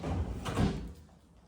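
A drawer in a newly installed kitchen shuts with a single dull thud, a short close knock that fades out quickly.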